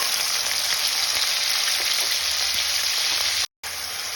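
Tomato paste sautéing in a hot pan while a banana-kofta curry is being prepared, giving a dense, steady hiss of frying that runs evenly with a brief dropout near the end.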